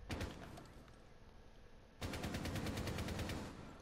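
Rapid automatic gunfire in Rainbow Six Siege, a fast even rattle of shots that bursts louder and denser midway through, with no talking over it.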